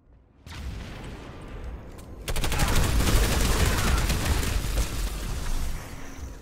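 Video game squad battle around a stairwell, a burst of rapid gunfire and booming shots erupting after a short lull, dense and loud, continuing in sustained volleys.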